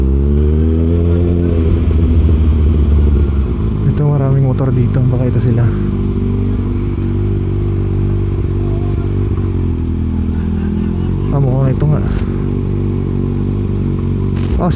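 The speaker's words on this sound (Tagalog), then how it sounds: "Ito, maraming motor dito." Motorcycles, including a Kawasaki ZX6R with an SC Project exhaust, rev loudly at a gathering, with a deep continuous idle punctuated by repeated rising throttle blips close by and voices talking over the engines.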